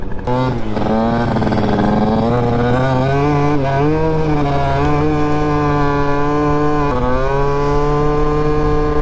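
A small, buzzy scooter engine revs up and holds a high whine with rising pitch, loud and close, briefly dipping before climbing again.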